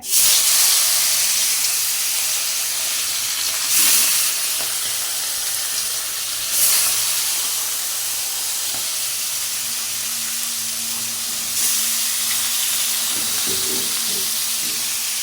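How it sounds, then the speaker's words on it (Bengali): Loud hot-oil hissing and sizzling from a pan of frying fish, surging in bursts every few seconds over a constant frying crackle. "আমি প্রথমে মাছগুলো ভাইজে নেই গরম তেলে"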